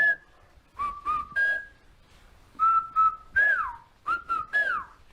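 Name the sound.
whistled Chinantec speech from Chiapán, Mexico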